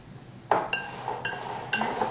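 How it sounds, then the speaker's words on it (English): A whisk clinks against a bowl while coconut oil is beaten into a raw vegan peanut butter fudge mixture, making a few separate close metallic taps and scrapes spaced through a quiet moment. "And then we're going to go ahead and whisk this up."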